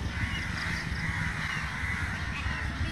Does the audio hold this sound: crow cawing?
yes